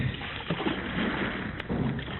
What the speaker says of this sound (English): Pull those oars, man.